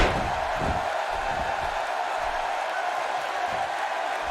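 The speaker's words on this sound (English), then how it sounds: "just listen to this Birmingham crowd as this one gets underway." A Birmingham arena crowd roars in the wrestling video game WWE 2K18 as a triple threat match begins. The noise is a steady, loud, unbroken wash that holds level throughout.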